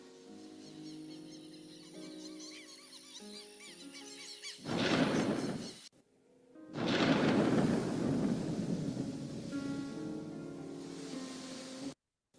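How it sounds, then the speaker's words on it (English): A storm at sea tossing a small boat: a roaring, rushing wash of wind and water noise swells in over a tonal musical backing, breaks off briefly, then surges back loud and steady for several seconds. "a storm. I can't control the boat."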